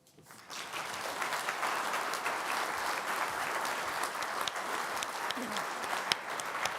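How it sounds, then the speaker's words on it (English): A summit audience breaks into applause after a keynote speech, rising quickly from quiet into a steady, dense wash of clapping that holds evenly to the end. "we should direct our applause and say thank you"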